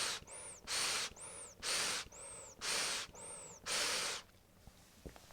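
Someone breathing through an O2 Curve silicone respirator, five slow, loud, airy inhale-exhale cycles with a faint whistling edge, close to the microphone, then quiet.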